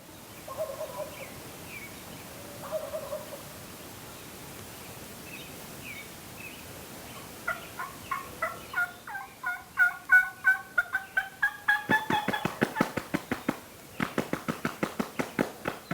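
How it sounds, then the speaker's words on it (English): Wild turkeys gobbling from the roost, at first a few faint distant calls, then a rising run of loud, rapid gobbles in repeated bursts, with no talking. "We hear one lone bird gobbling."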